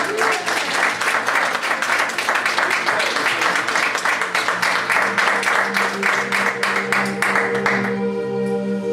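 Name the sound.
audience applause at hypnosis show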